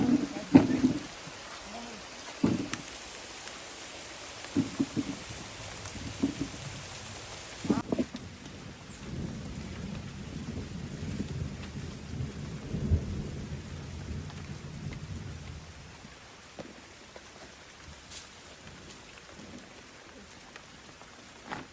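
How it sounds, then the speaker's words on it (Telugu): Rain falls steadily over a farmyard where harvested onions are piled under a neem tree, with thunder rumbling and one sharp crack partway through, the downpour continuing at a moderate level. "వాన నీళ్ళు అయితే ఈ ఉల్లిపాయల మీద పడట్లేదు"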